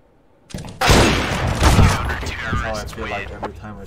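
A weapon fires in the CS:GO video game, a sudden loud burst of rapid shots and echoing booms that rolls on for a few seconds, with some voice mixed in.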